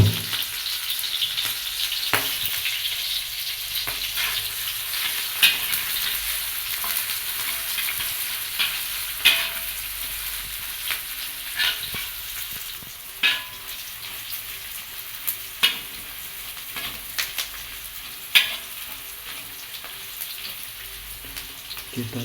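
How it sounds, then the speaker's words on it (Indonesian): Sliced onion, chili and garlic sauté in hot oil, a steady close crackling sizzle that runs throughout, punctuated every few seconds by sharp clacks of a spatula stirring the pan. "Bagi ini minyaknya sudah panas, kita tuangkan bawang yang sudah diiris dan juga cabai serta bawang putih."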